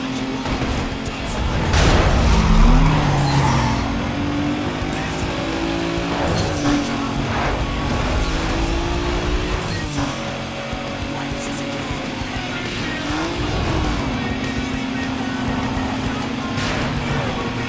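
Mazda RX-8 racing in Need for Speed: Most Wanted (2005), its engine revving and shifting steadily at close range over a game soundtrack, with brief tire squeal and a voice talking over it.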